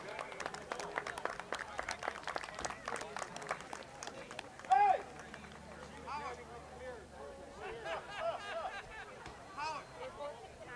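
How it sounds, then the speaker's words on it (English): Audience at a heritage wall dedication applauds speaker Charlie Chin, rapid scattered clapping from a modest crowd, fairly distant and soft, with background chatter continuing underneath. "Let's have another round of applause for Charlie Chin."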